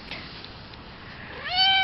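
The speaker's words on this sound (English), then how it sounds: "That's how you pat Tiger Cat." A female domestic cat lets out a single loud, close meow near the end of an otherwise quiet moment while being petted.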